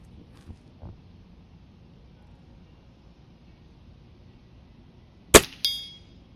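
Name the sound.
bullet hitting steel target at 50 yards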